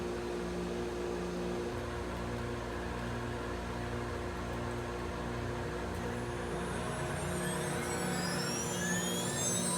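Lead CNC 1015 router spindle motor running at 20,000 RPM on a finishing pass, a steady, continuous high-pitched whine with machine hum, constant level throughout, no talk.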